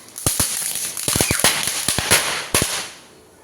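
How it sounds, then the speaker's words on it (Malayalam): A rapid series of sharp, loud palm-leaf firecracker bangs during Vishu, thrown by hand, some in quick clusters, echoing outdoors before fading to quiet. "അച്ഛൻ ഓലപ്പടക്കം എറിഞ്ഞ് പൊട്ടിക്കുകയാണ്."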